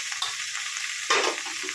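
Fried vegetables being stirred in a hot pan for a Bengali potato, green banana and eggplant curry: a steady bright sizzle with a short burst of scraping and louder frying partway through.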